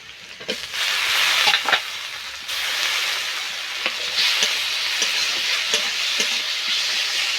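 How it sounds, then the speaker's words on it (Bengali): Spices fry in a pan with onion paste and chopped tomato, giving a broad, steady sizzling hiss with occasional soft taps of a stirring spoon, close by. "সমস্ত মশলা একসঙ্গে আমি হালকা হালকা করে ভেজে নেব।"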